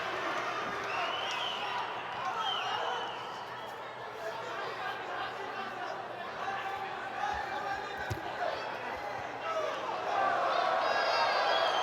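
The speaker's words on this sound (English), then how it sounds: "Shouts for Shido from the crowd" At a judo Grand Slam in Tbilisi, a large arena crowd chatters and shouts continuously at moderate distance, calling for a shido penalty, with voices swelling and rising toward the end.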